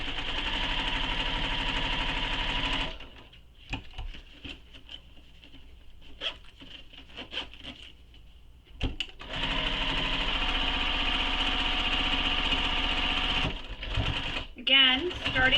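A sewing machine fitted with a zipper foot stitches a convertible bag, running in long loud steady whirring bursts that stop and restart, with a voice speaking during the quiet gap.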